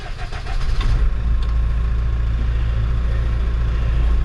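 A 2016 Case 590SN backhoe loader diesel engine starts with a brief cranking, then settles into a steady, loud, low idle rumble, close and continuous, with no talking.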